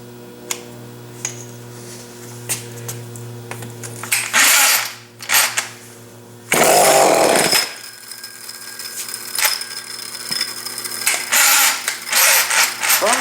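A Homelite chainsaw struggles through a hard cold start with the choke on: several sharp mechanical clicks and pull-cord rattles, then two loud sputtering bursts that die out, over a steady low background hum.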